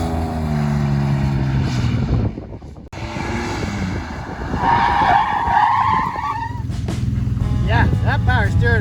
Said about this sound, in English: always test your power steering abilities by power braking the shit out of your one-wheel drive Dakota